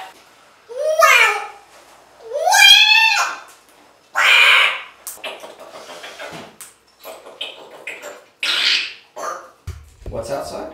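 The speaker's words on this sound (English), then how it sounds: "There's a bird outside." A bird calls indoors-nearby in loud, warbling squawks and chirps, several bursts spread over the stretch, mixed with babbling voice-like sounds and a person speaking between them.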